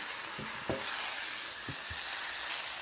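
Fried mixed vegetables for a fish-head dal hiss softly as they are sautéed in a pan, a low continuous sizzle with a few faint scrapes of stirring and no voices.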